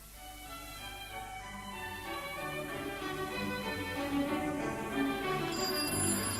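Telephone ringing as a radio drama sound effect, a steady sustained electronic ring with bright layered harmonics, fairly loud and continuous with no talking.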